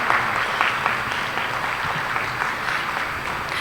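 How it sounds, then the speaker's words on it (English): Audience applause welcomes a chief guest, a molecular biology institute director, at a conference inauguration, a steady, even round of clapping from a hall crowd lasting a few seconds with no talking. "Please give a big round of applause for him."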